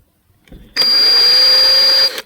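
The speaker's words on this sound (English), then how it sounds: "Why I'm using a 2 kilograms drill?" A large 2-kilogram electric drill whirs loudly up close for just over a second with a steady high whine, preceded by faint handling noise.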